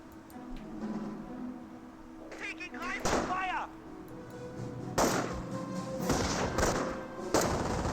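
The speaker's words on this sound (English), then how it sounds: "looks like the engineers here are being engaged by the MG-42" Gunfire from an MG-42 machine gun in the Company of Heroes strategy game, sharp bursts at several points over a constant battle ambience, mixed with voices and other game effects.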